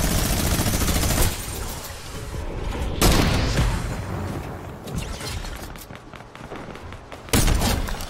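Gunfire in a video game, sharp close shots cracking in quick bursts over ongoing battle noise, with a few heavy thumps spread across the span.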